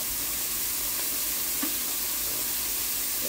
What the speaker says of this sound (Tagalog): ginisa ko muna yung bawang, sibuyas at kaluyay